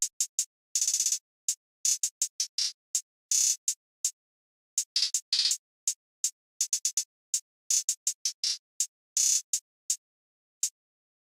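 Crisp, bright hi-hat hits tick in a programmed pattern, with fast rolls and short bursts between sparse single strikes; no other instruments or voices.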